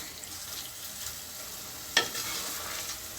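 Keema kuska stirs and fries in a pan, with a soft continuous sizzle, faint scraping of the spoon and one sharp clink partway through, and no one talking.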